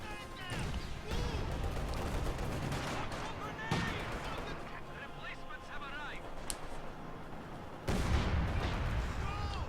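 Bursts of MG34 machine-gun fire with incendiary armor-piercing rounds in a Company of Heroes battle, layered with explosions and heavy battle noise, while a commentator talks over much of it.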